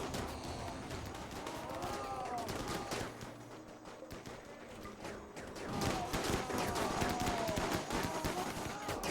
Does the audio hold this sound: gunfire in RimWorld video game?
yes